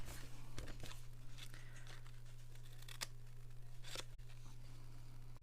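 Scissors cut along a fold in paper during a craft workshop, making faint crisp snips and light crinkling over a steady low hum, with no one talking.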